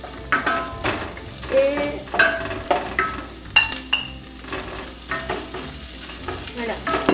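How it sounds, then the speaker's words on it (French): Chorizo sizzles and crackles steadily in a hot pan, with scraping and stirring sounds at intervals and a brief spoken word. "On va commencer à frire le chorizo."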